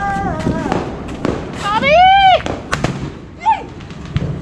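Diwali firework rockets whistle upward in rising and falling tones, with sharp bangs and pops close by, while people chatter and shout throughout.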